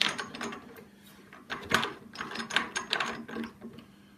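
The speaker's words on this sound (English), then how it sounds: "now I'm just going to get another couple of clamps and we put them on in the opposite direction" Sash clamps tightened onto a glued Telecaster-style guitar body, a close series of ratcheting metallic clicks and scrapes in uneven bursts over a quiet workshop.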